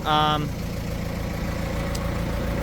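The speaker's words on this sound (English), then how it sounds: "I'm gonna leave the tractor running" A tractor engine idles with a steady low rumble while parked for welding work on a trailer axle; a short tonal beep opens it, and the engine continues evenly throughout.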